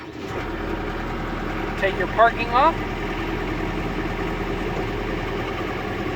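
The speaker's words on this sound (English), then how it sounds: "To start the engine, you hit the green button." A John Deere 326E skid steer loader's diesel engine idles steadily and close by throughout, with a person speaking briefly over the running engine.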